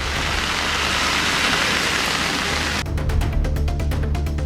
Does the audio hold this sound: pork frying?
no